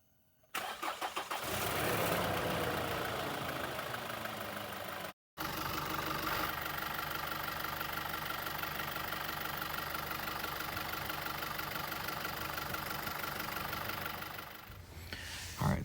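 Duramax 2.8 diesel engine in a pickup cranks briefly, catches and settles into a steady, loud idle that runs on evenly with a rough clattering edge, heard up close in the engine bay.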